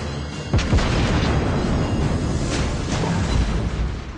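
Heavy naval gunfire from the Furutaka cruiser in World of Warships Blitz, a dense, continuous roar of booming shots and explosions with several sharp blasts standing out, loud and steady without any talk.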